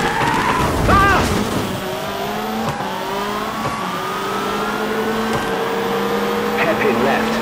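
Rally car in WRC2 swinging through a handbrake hairpin, its engine whining in long rising tones and tires skidding and squealing, with a co-driver's voice calling pace notes over it.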